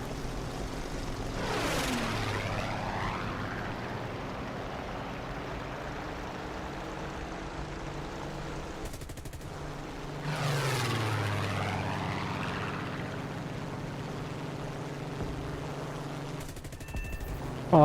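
Hawker Tempest Mk V propeller engine in War Thunder drones steadily and loudly throughout, with two sweeping whooshing passes of other aircraft roaring by, and a brief burst of gunfire near the end.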